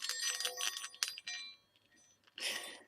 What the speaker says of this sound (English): We used to call them Chinese balls, and obviously they're just metal weighted balls.